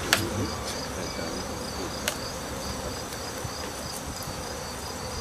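A dense, steady buzz of many honey bees balled up on open honeycomb close by during a hive inspection, with occasional sharper clicks and taps over the droning hum.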